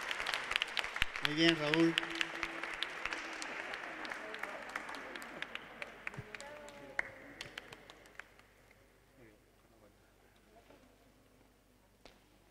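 Applause from the audience at a trophy ceremony for a chess tournament in a sports pavilion, a burst of clapping that fades out over several seconds while someone speaks over it briefly.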